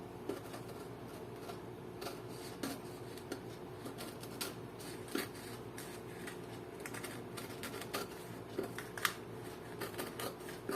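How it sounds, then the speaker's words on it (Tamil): Scissors cut along the curve of blouse cloth on a table, a steady series of quiet snips and small clicks spread through the stretch, with no talk. "ஸோ இப்போ மேலே இருக்க கர்வை கட் பண்ண போகிறோம்."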